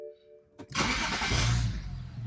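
A BMW N54 engine cranks briefly and catches, then settles into a loud, steady idle close by, with no talking.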